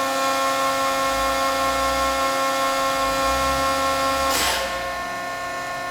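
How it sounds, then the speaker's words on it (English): Hydraulic press closing and building to full tonnage, a loud, steady mechanical hum with tonal whine and low pump throb, broken by a brief hissing burst before the drone drops to a quieter level. "Fast close, pressing, clamped, full tonnage."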